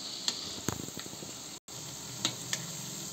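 Raw banana and besan pakoras frying in hot oil give a soft, steady sizzle with a few brief crackles and stirring sounds, close by and without talk.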